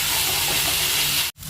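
Hot oil hisses loudly in a pan as spices fry for a Bengali bhetki fish curry, a broad steamy sizzle that cuts off abruptly near the end, with no voices.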